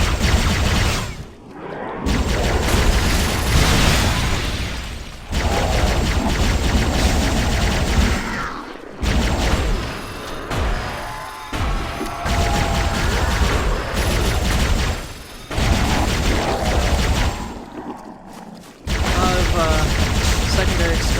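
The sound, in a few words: explosions in video game Halo SPV3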